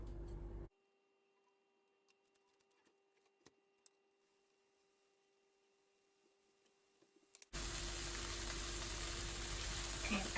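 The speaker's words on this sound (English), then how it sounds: "I'm gonna start frying up the bacon" Bacon in a frying pan gives a brief sizzle, then near silence with faint clicks, before a loud, dense, steady sizzle bursts in and carries on to the end.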